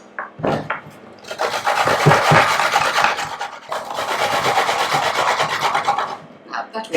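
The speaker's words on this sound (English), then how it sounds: "I'm going to grate another carrot" Carrot being grated by hand in a home kitchen, rapid rasping strokes, loud and close, steady for several seconds with brief pauses at the start and end.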